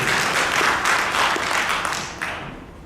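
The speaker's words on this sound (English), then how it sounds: "give yourself a round of applause" Applause rises from a conference crowd at a BICSI Middle East talk, a steady wash of clapping that holds for a couple of seconds, then thins and fades out.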